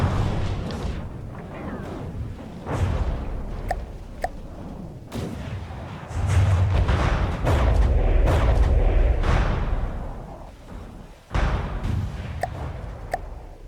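Heavy guns fire in From the Depths, a naval vehicle-combat game, with repeated booming shots and rumbling blasts spread across the stretch, loudest in a sustained roar around the middle.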